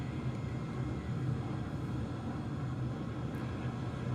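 A 1950s first-generation jet flying in the War Thunder video game, heard as a steady, broad engine roar and rushing air that holds at an even level throughout, with no voices.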